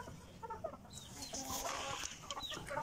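Hens cluck in a farmyard, including a broody hen, with a few soft clucks early on, then busier overlapping calls and rustling. The sound is fairly close but quiet, and no one speaks.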